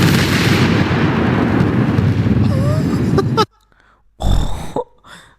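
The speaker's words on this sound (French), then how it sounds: "vous allez voir ce qu'il fait ce canon" Cannon firing in a video game, a long roaring blast rumbling loudly before cutting off abruptly, then a short silence followed by a second heavy boom that decays quickly.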